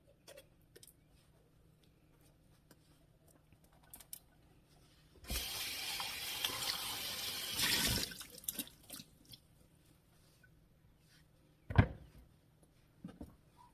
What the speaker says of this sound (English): give them a rinse with cold water and let them dry.